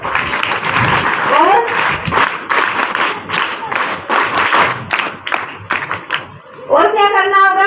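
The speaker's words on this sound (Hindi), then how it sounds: "वेरी गुड, तालियां बजाओ।" Students at a Brahma Kumaris camp applaud together, a fairly loud burst of close clapping that thins out, with a voice speaking at the end.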